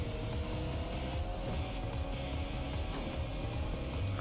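Steady engine drone from rival cars in the Hot Wheels: Ultimate Racing video game, a dense, constant whirring hum held at an even level throughout with no talk over it.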